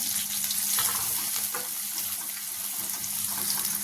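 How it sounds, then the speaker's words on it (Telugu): Onions and green chillies frying in hot oil with mustard and cumin, a soft continuous sizzle at low level, no talk. "వేగాక ఉల్లిపాయలు అలాగే రెండు పచ్చిమిరపకాయలు వేసుకొని ఫ్రై చేసుకున్నాం"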